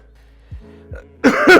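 A couple of short throaty coughs, then a louder, harsher burst of coughing up close.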